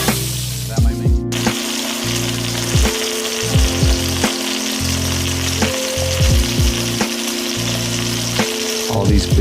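Pork roasting in a pan for BBQ pulled pork, sizzling and frying steadily up close, with repeated stirring scrapes and clatters at a regular pace and no talking.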